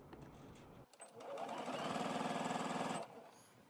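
A sewing machine stitches along the top edge of a dress's front panel, running steadily and close for about two seconds with a fast even whir, then stopping.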